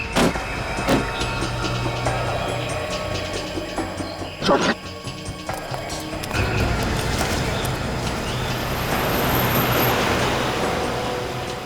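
A car with a punctured tyre drives fast along a road, its engine and road noise steady and close throughout, with a brief clatter partway through and the rumble swelling louder toward the end.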